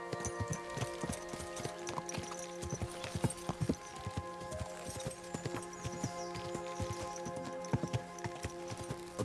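Horse hooves clip-clopping in the medieval video game Kingdom Come: Deliverance 2, a steady rhythmic trot of close, crisp hoofbeats over a tonal music background, running throughout.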